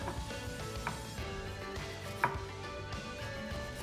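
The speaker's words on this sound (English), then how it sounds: "When you see or hear the word slice, you will need a chopping board and a sharp knife." Sharp knife slicing food on a chopping board, giving a few faint, scattered taps and cuts against a quiet background, with one slightly louder chop near the middle.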